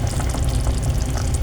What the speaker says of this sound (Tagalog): So, lalagyan na po natin ng suka